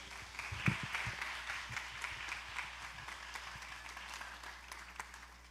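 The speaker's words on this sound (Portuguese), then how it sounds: "Aplauda a Deus." Applause from a church audience during a Carnaval com Cristo sermon event, a steady, moderately faint wash of clapping that runs throughout, with a slightly louder burst near the start and no voices over it.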